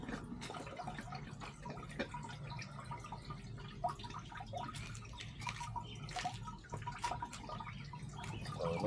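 Water comes out of a water pump being tested outdoors, faint irregular drips and trickles over a low background.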